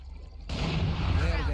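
A sudden loud gunshot burst from a wallbang kill in the game Valorant, cutting in sharply after a quiet moment and ringing out with a short echoing tail.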